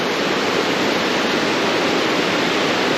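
A small mountain river rushes past a stony path on a hike in the Ariège mountains at l'Estours, making a steady, loud, broad roar of flowing water that never stops, with no voices.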